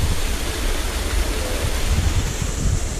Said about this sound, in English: That little waterfall business, they looking nice